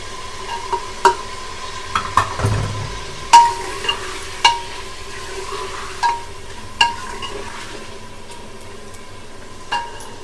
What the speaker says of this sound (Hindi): ये देखिए इसे 1-2 मिनट भून लेंगे। अब इसमें हम टमाटर डाल देंगे।